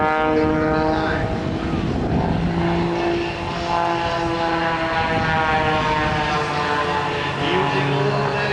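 A propeller plane flies aerobatic rolls and snap manoeuvres at a Canadian airshow, its engine droning loudly and continuously with shifting harmonic tones as it turns, while an announcer talks over it.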